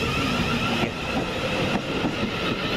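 British Rail Class 377 and Class 700 trains rumble steadily through Gatwick Airport station, several arriving while another departs, with a continuous loud rolling roar and faint rail clatter throughout.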